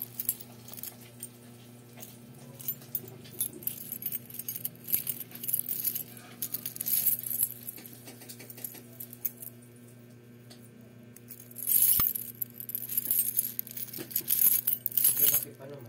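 A bunch of metal keys jangles and clinks in bursts near the microphone over a steady background hum, louder toward the end.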